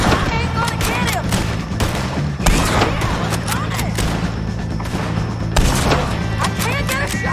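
Gunfire in the Western video game Red Dead Redemption 2, a dense fight against O'Driscoll gang members with rapid overlapping shots, thuds and booms over loud game noise, close and continuous.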